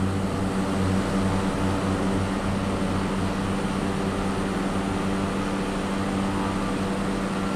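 Piper Cub propeller planes flying, a steady droning engine and propeller hum that stays loud and unbroken throughout.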